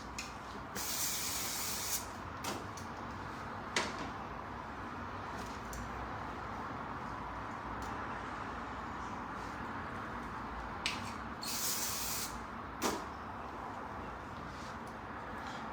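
Hairspray hisses from an aerosol can onto long hair being styled into a high ponytail, in several short close bursts separated by pauses, with faint handling sounds between sprays.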